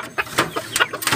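A hen clucks in short repeated bursts, close and fairly quiet, in a farmyard with a broody partner hen nearby.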